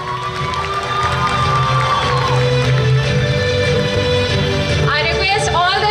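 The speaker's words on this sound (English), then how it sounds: "Give a big round of applause for her." Crowd at a school annual function cheering and shouting, with children's voices and general hubbub, loud and sustained, with rising whoops near the end.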